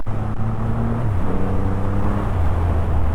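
A 2023 Triumph Rocket 3R motorcycle pulling away in third gear up a steep hill: a deep, loud engine drone that climbs steadily in pitch under heavy wind noise, close and continuous.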